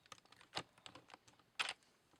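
A keycap is pried off a gaming keyboard, with sharp plastic clicks and snaps at an uneven pace, including a few louder pops, heard up close and quiet.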